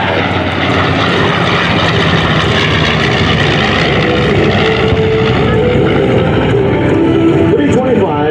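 A World War II B-25 bomber flies a low bomb run at an air show at Joint Base Andrews, its piston engines producing a loud, continuous propeller drone that swells steadily throughout.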